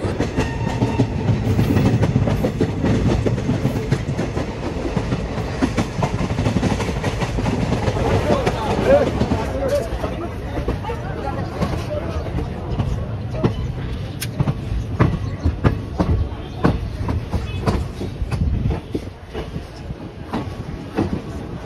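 The Ganadevta Express rolls steadily on rails at Nalhati station, with rhythmic clacking wheels and a rumbling, fairly loud and close, and faint voices underneath.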